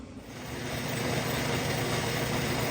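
A bandsaw set to its slowest speed hums with a steady, even mechanical drone that rises as it spins up, near and continuous with no voices, before cutting stainless steel.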